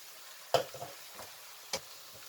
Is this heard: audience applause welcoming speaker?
no